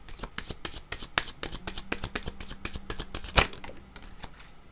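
Playing cards riffled and shuffled in quick, crisp bursts with a sharp snap near the end, close by with no talking, as a card is drawn for a reading.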